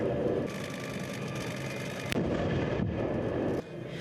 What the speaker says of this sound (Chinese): 重点是4台战车做伙开炮，拍到中国军队战车的标靶